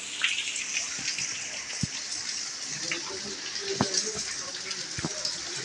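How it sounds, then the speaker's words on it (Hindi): Rain begins falling outside a college hostel, a steady broadband hiss of drops with occasional sharper splashes and drips, fairly close and continuous, with faint voices now and then in the background. "देखते वर्षा आरंभ हो गला"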